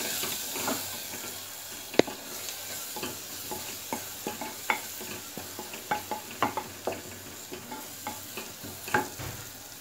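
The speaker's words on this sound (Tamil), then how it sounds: "எல்லாம் போட்டு நல்லா கலரி விட்டுருங்க." Spiced masala with salt, turmeric and chili powder fries in oil in a pan while being stirred: a constant soft sizzle under regular scraping clicks and taps of the spoon, roughly one per second, with no talking.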